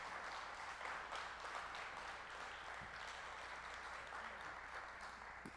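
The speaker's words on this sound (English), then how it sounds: "let's give them a round of applause" Audience clapping for children at a school film festival Q&A, a steady wash of applause that sounds fairly distant and soft and holds evenly throughout.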